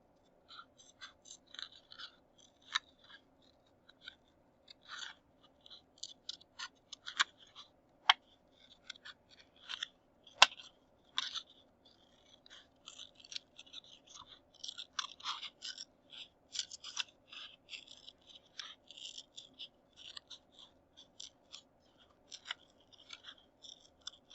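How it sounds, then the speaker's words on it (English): Scissors snip through paper along a drawn line while cutting out a tessellation piece, a long run of close, crisp, irregular cuts at steady moderate volume with no talking. "I am going to cut that out"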